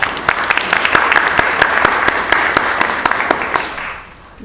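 Audience applause at a climate conference, a dense steady roll of many hands clapping close and loud, with sharp individual claps standing out, fading near the end.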